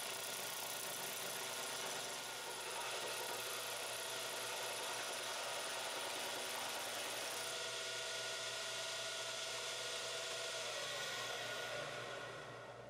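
A power tool cuts a wood profile both with and across the grain, its motor whining loudly and continuously at close range with a rough, shifting cutting texture; no speech is present.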